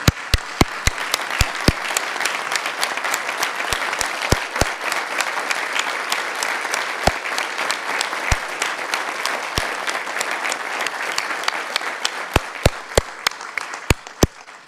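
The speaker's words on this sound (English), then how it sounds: "I'm sure that we could applaud for a lot longer" A crowd at a city gathering gives a long ovation for a departing police chief, a sustained wash of many clapping hands with sharp individual claps standing out nearby, fading at the very end.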